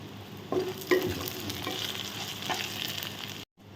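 Dried red chillies and curry leaves frying in oil for pulihora, a steady close sizzle with a few spoon knocks against the pan while stirring, ending abruptly.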